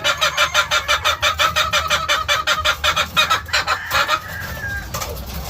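Breeding hens at a game farm cluck rapidly in a rhythmic series of loud, close calls, trailing into softer clucking toward the end.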